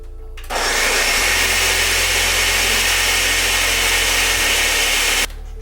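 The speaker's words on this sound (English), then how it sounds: "we're going to blend that to get it liquefied" A blender whirs steadily at full power, liquefying eggs for banana protein pancakes; a loud, even motor roar starts abruptly, shifts pitch once partway through, then cuts off.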